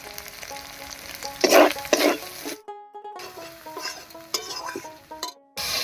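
Spice paste with turmeric and salt fries in a pan while being stirred. Bursts of sizzling come and go between scraping strokes, with brief near-silent gaps, heard close with no speech.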